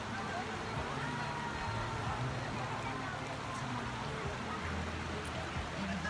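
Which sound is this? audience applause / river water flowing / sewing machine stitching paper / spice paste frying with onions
river water flowing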